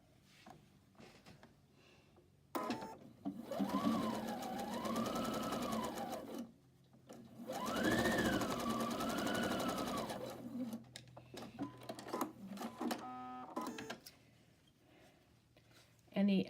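A sewing machine chain stitching a quilt block seam runs in two sustained bursts of rapid stitching with short pauses between, followed by lighter intermittent fabric handling and a final brief run.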